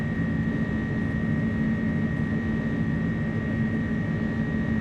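An iniBuilds A300 in a flight simulator at takeoff power, its jet engines making a steady, loud roar with a sustained tonal whine throughout, no talk.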